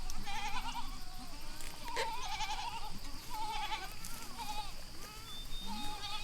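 Goats on a farm bleat repeatedly at a moderate distance, several overlapping calls rising and falling over a constant background hiss, with no talking.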